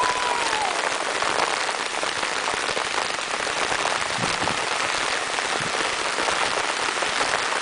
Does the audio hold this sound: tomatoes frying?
no